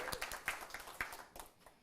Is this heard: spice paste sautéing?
no